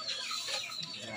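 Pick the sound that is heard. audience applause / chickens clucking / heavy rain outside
chickens clucking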